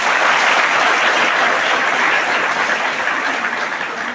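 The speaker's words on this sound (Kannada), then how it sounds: "ಒಂದ್ಸರಿ ಜೋರ ಚಪ್ಪಾಳೆ ಹೊಡ್ರಿ" Loud audience applause in a hall, a dense, even roar of many clapping hands sustained throughout and fading slightly toward the end, with no talk over it.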